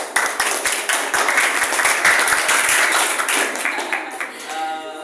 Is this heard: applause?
yes